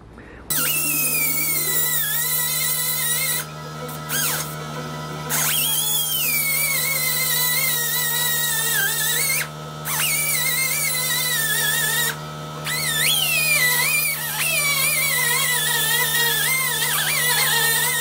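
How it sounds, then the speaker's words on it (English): A 3-inch cut-off wheel grinds across the steel A-pillar post of a Chevy C10 truck, giving a loud, steady high-pitched whine that runs for the whole stretch, with a few brief dips as the wheel eases off the metal. "I take a cut wheel with a 132nd 3-inch blade, and I cut the A-pillar post right across here along this edge right like that, up to the top"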